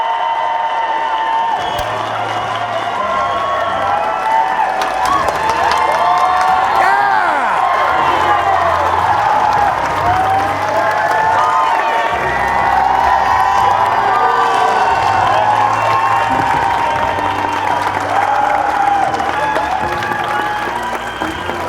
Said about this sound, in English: Let's give Mr. Baldwin a round of applause.